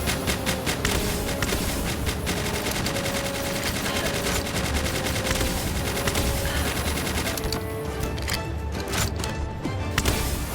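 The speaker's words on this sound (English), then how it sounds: "I heard a gun." Rapid machine-gun fire in the video game Palworld, loud sustained bursts of automatic shots rattling continuously throughout, with a short lull near the end before more shots.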